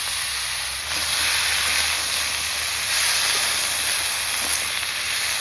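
Chopped stalks, leaves and potatoes hitting hot mustard oil tempered with whole cumin, a loud, continuous close-up hiss and sizzle with no voices.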